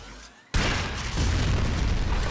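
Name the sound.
Stahlta weapon explosion in video game Warframe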